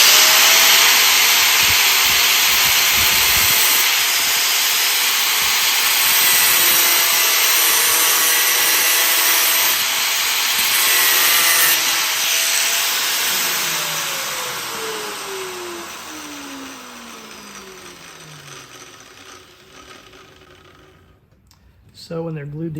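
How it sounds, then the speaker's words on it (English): An angle grinder cuts through a metal bolt with a loud, sustained whine that holds steady for several seconds and then slowly winds down as the disc spins to a stop. "Then I'm just going to take my grinder and cut it."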